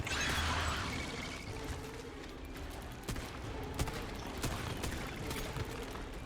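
Gunfire in the survival shooter Once Human, a steady rattle of distant shots with sharper cracks standing out over a dense, noisy background, no talking.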